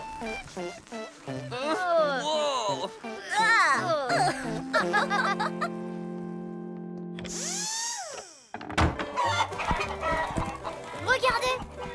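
Cartoonish chicken clucks and squawks from a Blaze and the Monster Machines cartoon mix with lively background music and sound effects, with an excited French-speaking voice chattering throughout.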